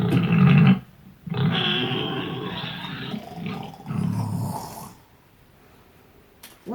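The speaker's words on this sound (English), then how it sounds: "This is a pig." Pig grunts and snorts from a Google Home smart speaker: deep, rough, snoring-like bursts in several uneven phrases, loud and close, trailing off into near silence.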